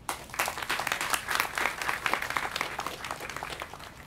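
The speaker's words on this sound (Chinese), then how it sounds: "给他鼓掌。" An audience applauds at a live folk concert in a small music venue, with dense, steady clapping from many hands that carries on at a fairly even level throughout.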